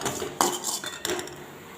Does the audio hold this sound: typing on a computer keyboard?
no